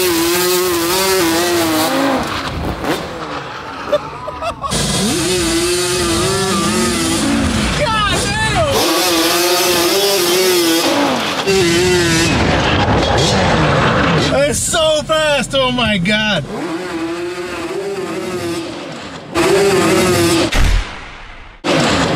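Yamaha Banshee ATV engine racing in a drag race in a yard, loud and continuous with rising revs and gear changes, carrying on under excited talking throughout.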